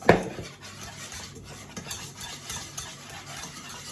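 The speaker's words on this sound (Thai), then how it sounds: "ก็คือการขั่วแป้งให้สุก เห็นปะขั่วแป้งให้มันสุก" A utensil stirs flour cooking in a pan over low heat for a white sauce, with a sharp scrape at the start and then continuous soft scraping and light sizzling throughout.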